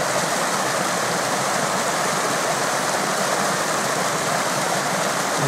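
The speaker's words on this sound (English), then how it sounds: "There's a waterfall" Steady broadband rush of a waterfall near the Gunnerside lead mine in Swaledale, falling over a dam; continuous, fairly close and alone, with no talk.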